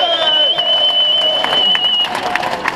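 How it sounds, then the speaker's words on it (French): Outdoor crowd applauding and cheering for helpers and volunteers at a mountain trail race in the Aiguilles Rouges, steady clapping under a whistle-like tone and scattered voices. "J'aimerais que vous applaudissiez les accompagnants"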